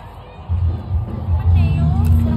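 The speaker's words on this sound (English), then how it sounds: "Hear the crowd." Crowd hubbub at Oz Comic Con Sydney, a close, busy wash of overlapping voices and chatter that swells louder partway through, with nearby people talking.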